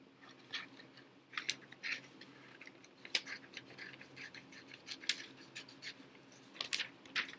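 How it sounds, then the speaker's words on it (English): Quiet, irregular snipping and crisp paper rustles, a few sharp cuts standing out against a soft background with no talking. "Grab your scissors."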